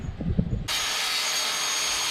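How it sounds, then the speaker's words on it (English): A power saw cuts through a sheet of plywood for a bed frame inside an Airstream trailer. A few soft knocks come first, then a steady, loud cutting whine runs to the end. "Louis cut a sheet of plywood he will install to the bed frame"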